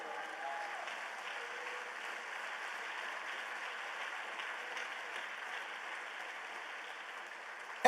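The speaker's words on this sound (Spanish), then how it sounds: "Dele ese aplauso al Señor." Church congregation applauding during a service, a steady, fairly faint wash of clapping lasting about eight seconds with no talk over it.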